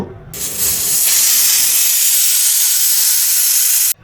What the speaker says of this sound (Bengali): এবার প্রেশার কুকারে মোটামুটি 8 থেকে 10টা সিটি মেরে নেবো